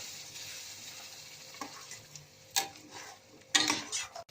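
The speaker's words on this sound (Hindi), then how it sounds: "अब इसको मैं अच्छी तरह से भूनूंगी, जैसे हम मसाला भूनते हैं" Masala fries in oil in a pan with a soft background sizzle, broken by a few sharp metallic clinks and scrapes of a spoon stirring against the pan, close by.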